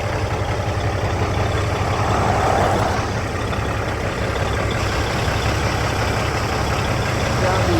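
A truck engine idles at close range, a steady low rumble with a slight swell in the middle, running throughout with faint voices underneath.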